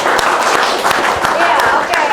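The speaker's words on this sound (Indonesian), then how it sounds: "Oke, tepuk tangan dulu seluruh Bantul." Brief, loud applause from an audience at a morning talk show on army territorial programs in Bantul, dense clapping with a voice talking over it.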